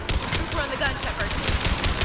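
Rapid machine gun fire in Mass Effect, a fast steady rattle of shots filling the whole moment, loud and close, with combat voices talking over it.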